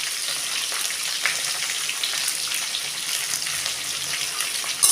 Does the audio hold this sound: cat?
no